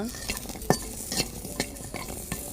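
Chilli, onion and pepper frying in a wok, a soft sizzle broken by repeated scraping and tapping stirs of a spatula against the metal, close up and fairly quiet, with no talking.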